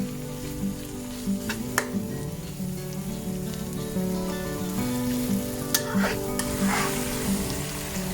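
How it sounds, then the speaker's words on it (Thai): Marinated pork stir-fries in a hot pan with a steady, close sizzle and frequent scraping stirs, a few sharper clinks from the utensil against the pan, and no talking. "เทลงผัดได้เลยค่ะ ผัดไปเรื่อยๆจนหมูสุกนะคะ"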